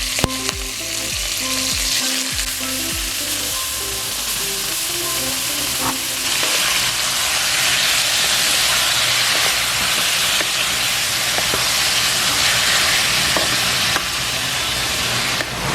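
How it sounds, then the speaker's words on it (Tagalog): Lean pork sautés in a little oil in a pan, a loud, continuous close sizzle and hiss with occasional stirring scrapes and no talk. "maglalagay lang tayo ng konting oil, and then gigisahin lang po natin yung pork"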